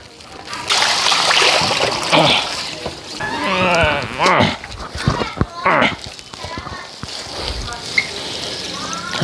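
Water is poured and splashes out of coconut coir that has soaked for days, in uneven close splatters and trickles while someone talks over it.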